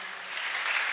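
Church congregation at a Sunday service in Gujranwala clapping, a brief burst of dense applause that swells slightly over one second.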